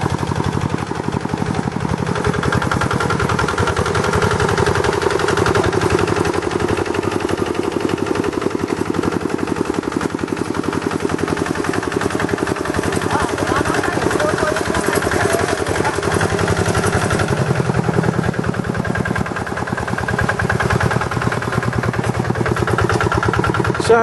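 A two-wheel hand tractor churns through a flooded rice paddy in Java. Its small engine gives a rapid, rattling putter that runs loud and continuous throughout, close by, with slight swells in intensity and no voices.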